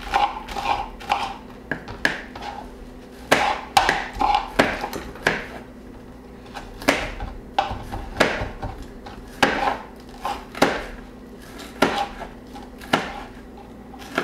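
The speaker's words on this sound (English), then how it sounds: "if you don't mind cutting the scallions, the scallions have to be cut in, exactly, in little circles like that" A knife chops scallions into thin rounds on a cutting board, a steady series of close, sharp taps with short pauses between bursts, and no talking.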